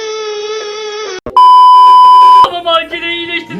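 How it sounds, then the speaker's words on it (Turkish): A loud steady electronic tone rings for about a second from a phone in a mobile game, cutting in between other bright, tonal game sounds. "Benim telefon çalıyor bir dakika."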